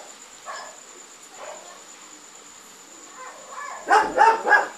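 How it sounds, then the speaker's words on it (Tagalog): A large dog barks three times in quick succession, fairly close and loud, after a stretch of quieter background noise with faint earlier yelps. "Kumahol na rin yung pinakamalaking aso."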